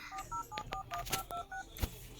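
A cellphone is dialed, with a quick series of faint, evenly spaced keypad tones, each a short two-pitch beep, followed by a brief click.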